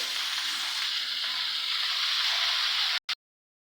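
Carrots and cauliflower sizzling in hot oil in a pan for vegetable dal, a loud, steady, close frying hiss that cuts off abruptly near the end.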